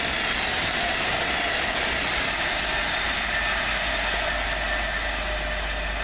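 A Class 390 electric express train passes through Heaton Chapel station on a Manchester Piccadilly to London Euston service, a loud, steady roar sustained throughout without any speech.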